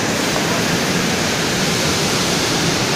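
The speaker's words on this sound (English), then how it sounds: "I am at the top of the falls." Theerthgarh waterfall near Jagdalpur heard from the top of the falls, a loud, steady, broadband roar of rushing water filling the whole clip without pause.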